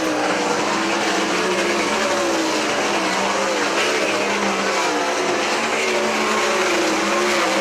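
Race cars on the final lap at Hartford Motor Speedway in Michigan, a loud sustained engine roar with shifting pitch as the cars run down the back straightaway into the turns.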